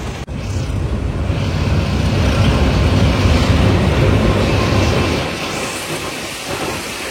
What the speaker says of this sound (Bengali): আর এখনো বৃষ্টি অনবরত হয়েই যাচ্ছে